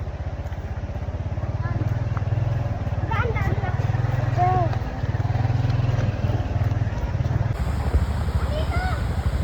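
A motorcycle carries riders along a mountain route near Calawis, Antipolo, its engine a steady close drone throughout, with voices and wind over the top.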